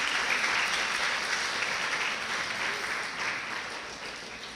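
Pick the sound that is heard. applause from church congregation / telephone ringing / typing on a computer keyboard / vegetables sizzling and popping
applause from church congregation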